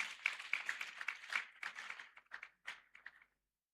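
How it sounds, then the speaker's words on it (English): Guests at a Special Olympics South Africa opening gala dinner give a short round of applause. Distinct claps from a modest audience come briskly at first, then thin out and trail off into silence after about three seconds. "Let's give Special Olympics South Africa a big round of applause."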